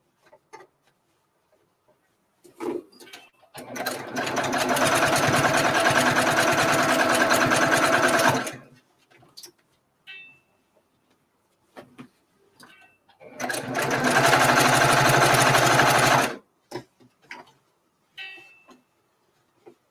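A Handi Quilter Luminaire longarm quilting machine runs in two steady stitching bursts of a few seconds each, a loud close mechanical whir with quiet gaps before, between and after.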